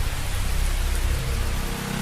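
A steady rain shower pours down with a dense, even hiss of drops, no pauses or distinct individual hits, plus a low rumbling undertone; no voices are heard.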